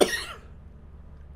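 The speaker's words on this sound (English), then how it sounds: "If I talk too much, I get that occasional cough." One sharp cough, close and abrupt, followed by quiet, then a faint start of another sound at the end.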